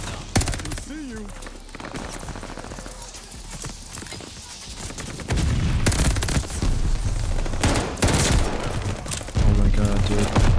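Video game battlefield with mortars and gunfire: rapid bursts of automatic fire and sharp impacts grow louder in the second half, dense and close, with a player's voice talking over parts of it.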